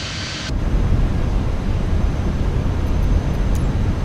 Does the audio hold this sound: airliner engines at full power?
yes